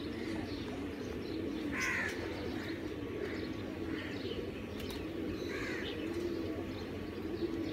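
Pigeons in a loft coo in low, throaty bursts, two or three calls rising over a steady background hum, with faint chirps between them and no voices.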